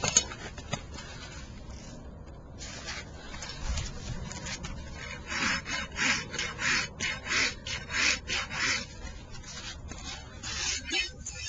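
A rasp scraping a goat's hoof to level it, a series of close, rhythmic rough strokes that grow stronger toward the end after some quieter handling noise.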